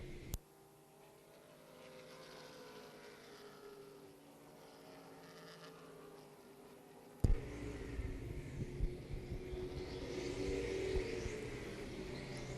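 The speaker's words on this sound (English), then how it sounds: "Whitten hanging on to 5th position, but Fast Company is quickly coming up to his rear bumper" Race cars at Oxford Plains Speedway, a 2011 short-track stock car race, roar past as a broad, steady engine drone that swells sharply louder midway, as if the pack closes in near the microphone.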